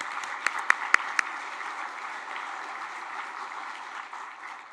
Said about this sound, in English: We'll just give her a clap.